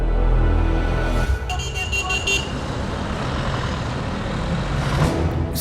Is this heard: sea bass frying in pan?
no